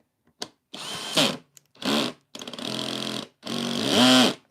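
A power drill driving skateboard hardware screws, heard as five separate whirring bursts of rising and falling motor pitch with short pauses between, close and loud with no talking.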